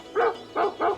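A performer's voice mimics a dog, giving three short barking yelps in an even rhythm, close and clear with nothing else underneath.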